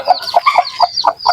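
A native chicken hen clucks close by among her five chicks, giving a quick run of short, loud, rhythmic clucks with sharp peeping notes between them.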